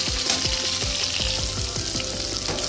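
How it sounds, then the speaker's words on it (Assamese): Pieces of pointed gourd sizzle steadily in hot oil in a pan, with a close, continuous frying hiss and repeated light scraping knocks as they are stirred. "আৰু এইখিনি প্ৰায় ফ্ৰাই হৈ গৈছে অলপ অলপ ৰঙা পৰিছে"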